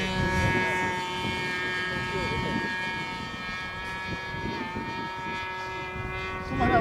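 A Nieuport 28 radio-controlled model airplane flies overhead, its small engine giving a droning, wavering buzz with pitch shifts, while people talk and chatter over it.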